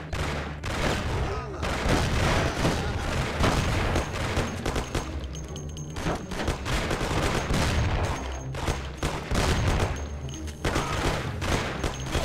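Dense, sustained gunfire from the video game Mafia, with repeated rapid bursts and heavy booms filling the whole stretch loudly, with some voices faintly mixed in beneath the shooting.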